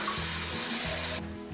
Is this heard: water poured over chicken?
yes